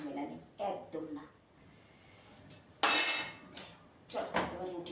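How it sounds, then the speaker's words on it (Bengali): An iron wok is scrubbed in a kitchen with a few irregular bursts of scraping and metallic clatter, one loud harsh scrub in the middle, close by. "এই যে একটা কঠিন কাজ চলে এসেছে সামনে, কড়াই মাজা।"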